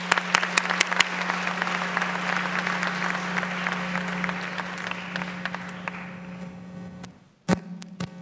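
A conference audience applauds Governor Mike Leavitt as he comes to the podium. The clapping is steady and fills the room, runs under a constant low electrical hum, and fades away into a few last scattered claps.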